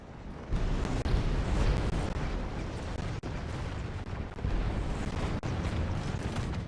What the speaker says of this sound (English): The enemy has brought up artillery to bombard your forces.